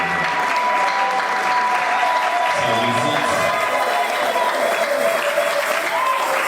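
A church congregation applauds loudly and continuously, a dense crowd clapping close by with some voices mixed into the ovation.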